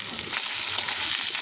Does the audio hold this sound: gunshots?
no